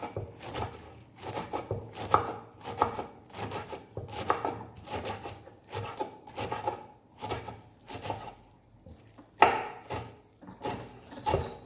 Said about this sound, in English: I'm just going to cut it into sizable chunks, or shredding it.